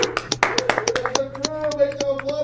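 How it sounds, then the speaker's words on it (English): Scattered audience claps at a Monday night comedy show, sparse sharp hand slaps coming in uneven bursts beneath someone talking over them. "I just want to give a round of applause not only to Fuzzy Machete"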